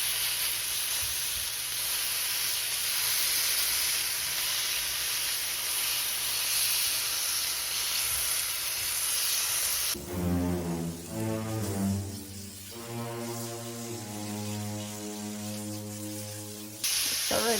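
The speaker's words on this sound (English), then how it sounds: "now we're just gonna sear it shortly on the outside, just a little bit" Beef searing in very hot rendered ribeye fat, a steady loud hiss for about ten seconds before abrupt tonal humming sounds take over until the end; no talking.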